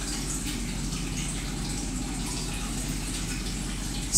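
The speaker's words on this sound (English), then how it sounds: "We've got the hose here, which fills the water." A hose pours water into a chlorine mixing tank, a loud, steady gushing rush with a deep low rumble that continues unbroken and close by, with no voices.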